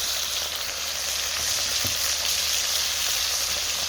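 Ginger and garlic sizzle in hot oil in a pan for a British Indian restaurant-style biryani curry sauce, a steady bright crackling fry with an occasional stir, no voices.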